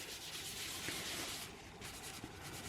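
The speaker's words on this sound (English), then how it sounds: "what I'm going to do here is just give it a good wipe" Towel rubbing and wiping across a laser-engraved tumbler, a close, continuous scratchy friction with a brief lull midway before resuming.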